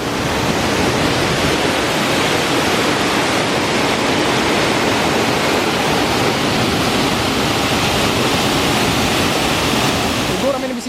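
Steady, dense roar of rushing water from Mantalaga Falls fills the scene without pause, pouring constantly nearby; a brief faint sound near the end.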